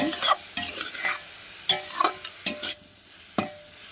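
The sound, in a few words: stirring frying food with turmeric powder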